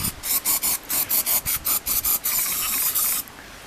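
Carb cleaner sprayed onto a motorcycle engine in about ten quick hissing bursts, then one longer spray, close and loud with no talk.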